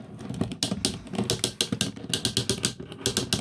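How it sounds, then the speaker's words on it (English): Transformers G1 Razorclaw toy's waist joint turning through a loud, rapid series of plastic ratchet clicks, close and alone, in quick bursts with brief pauses. "He has a loud ratcheted waist."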